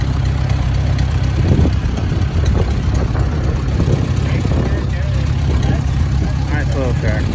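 A McCormick Farmall Cub tractor engine idling, a steady low rumble that runs continuously throughout at close range while people talk over it.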